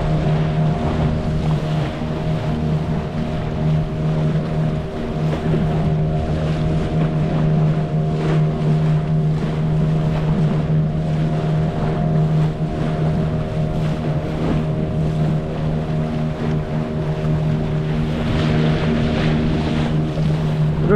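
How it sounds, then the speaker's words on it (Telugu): Motorboat cruising at sea off Goa, a steady loud engine drone with strong low harmonics and constant wind and water wash throughout, no talking. "ఇప్పుడు ఈ టైం అయితే డైరెక్ట్ బోట్లో వెళ్తున్నాను"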